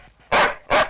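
A dog gives two sharp, loud barks close by, evenly spaced about half a second apart, with near silence between them and no voices.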